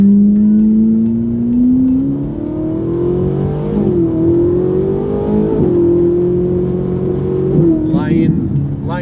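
A Ferrari's engine revs and drones continuously during an off-road drive, the pitch rising and falling through several gear changes, loud and close throughout.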